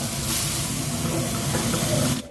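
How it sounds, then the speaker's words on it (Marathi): Grated beetroot sizzles in hot ghee, a steady close hiss with faint crackle that runs evenly for a couple of seconds before cutting off abruptly. "आता याच तुपावरती आपल्याला हा बेटाचा खीस परतवून घ्यायचा आहे"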